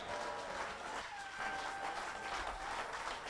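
A church congregation applauds in acclamation as an offering to God, a steady wash of clapping at moderate volume from a gathered crowd with no talking over it.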